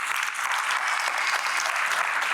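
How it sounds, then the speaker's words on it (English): Seminar audience applauding a coach, a dense, steady round of clapping that carries evenly through the whole stretch without any voices over it. "We owe you a round of applause."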